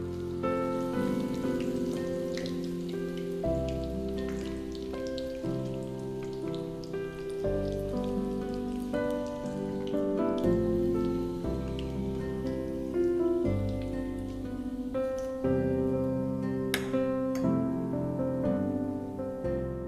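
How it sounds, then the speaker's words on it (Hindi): Fish fingers frying golden in hot oil, a continuous even sizzle like rain pattering throughout, heard under steady background music. "इन फिश फिंगर्स को हम गोल्डन फ्राई करके निकाल लेंगे"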